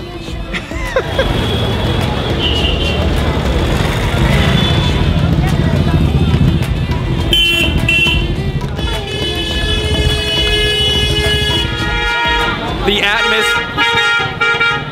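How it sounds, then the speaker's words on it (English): Car horns toot repeatedly beside a busy roadside in Amritsar, India, by a street food dhaba, several short honks rising over steady traffic and a crowd murmur, with people talking close by. "All kinds of honking horns, dogs walking everywhere, motorcycle accidents happening"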